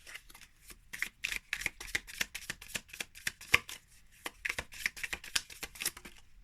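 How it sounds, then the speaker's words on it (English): Soft shuffling of a Macalon Tarot deck: a rapid run of light papery card riffles and slides, close and fairly quiet, continuing steadily without talk. "So just a soft little shuffle is fine."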